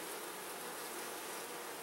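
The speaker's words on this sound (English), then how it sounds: "There seem to be plenty of bees here" Honey bees swarm around a hive frame, giving a dense, steady buzz that fills the short moment without a break, close and even.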